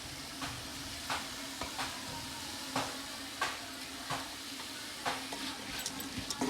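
Green chillies sizzle in hot oil in a pan while being stirred for a quick chicken biriyani, a steady frying hiss broken by regular scraping knocks of the spoon, close and moderately loud with no talking.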